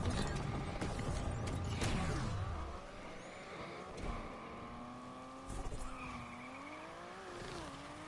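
Engine of a Vulcan hypercar driven in the racing game Need for Speed Unbound, a loud rising roar with tire squeal early on, then a steadier sustained engine tone with shifting pitch, no talking over it.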